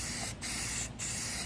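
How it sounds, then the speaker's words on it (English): Rattle-can spray paint hisses steadily onto car rocker panels in close, continuous bursts, broken by two brief pauses as the nozzle is released. "Don't stop your can while you're spraying."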